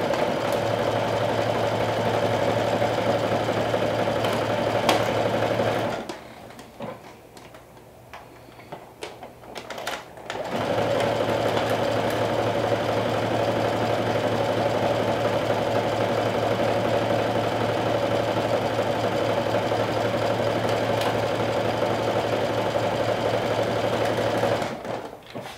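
A sewing machine stitching fabric runs in a loud, steady buzzing drone, stopping for about four seconds near the six-second mark, then resuming and running continuously to the end.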